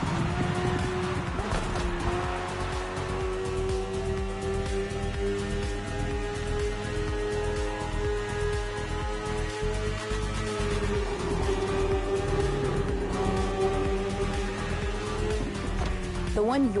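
Superbike engine of a BMW S1000RR in The Crew Motorfest, a loud sustained high-revving drone with steady harmonic tones holding near constant for the whole stretch, rising slightly at the end, mixed with game music or background sound.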